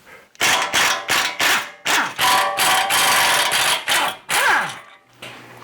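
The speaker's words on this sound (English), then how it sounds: "I'm using an impact gun. It can be done with the breaker bar, but let me go ahead and pop those loose" Pneumatic impact gun loosening 17mm fine-pitch brake rotor bolts on a first-generation 2000-2007 Toyota Tundra front brake, close and loud: a series of sharp rattling bursts, several short hammering runs separated by brief pauses, with no talk.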